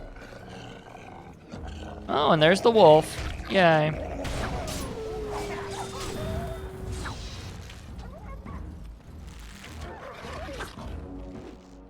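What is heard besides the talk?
wolves growling in Dragon Age Origins video game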